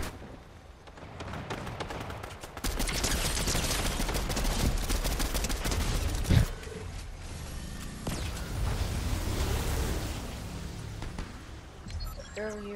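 Fortnite gunfire rattles in dense, mid-distance bursts, with a sharp crack near the middle. Lighter shots and game sounds carry on around it.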